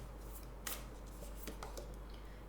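Moonology oracle cards being shuffled by hand, a soft steady papery riffle with a few sharper flicks, close and fairly quiet over faint background hum.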